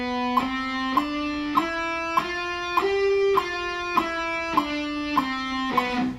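A guitar plays a six-note lick in steady quarter notes, one note per beat, repeating the sequence in order: about ten evenly spaced plucked notes, clean and unaccompanied.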